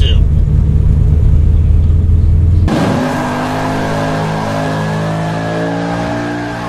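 A 1970 Chevrolet Nova's big-block V8 roars loudly, then settles into a steady, throaty revving drone with strong rumbling harmonics.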